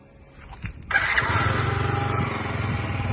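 A Yamaha VOX fuel-injected scooter starting: a brief whir of the starter, then the small engine catches within a second and settles into a steady, rapid putter at idle, close to the microphone.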